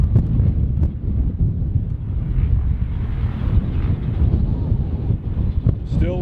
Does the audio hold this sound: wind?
yes